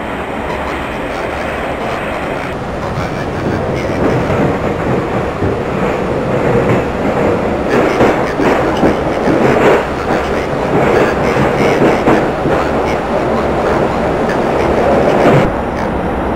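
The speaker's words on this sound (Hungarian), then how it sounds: "A második vágányról vonat indul." A commuter train pulls away from platform two at Rákos station in Hungary, its loud rumble and rolling rail noise building and holding steady close by, with no talk over it.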